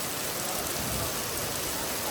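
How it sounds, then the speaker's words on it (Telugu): Heavy rain pours steadily at Guruvayur temple town in Kerala, a dense continuous hiss of downpour close by with no pauses across the short stretch. "ఈ వర్షం అయితే బీభత్సం కొడుతూ ఉంది."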